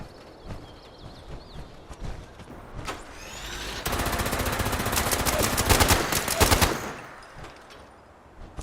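Heavy sustained gunfire from allied troops in a video game shootout at a power plant, a dense burst of rapid automatic shots building loud around the middle and fading out.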